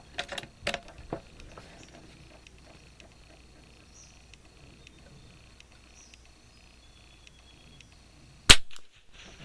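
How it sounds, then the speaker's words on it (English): A Kimber 82G rifle fires club ammunition, with one sharp, loud shot near the end after a few fainter early cracks and quiet handling ticks. "Just want to start shooting fast"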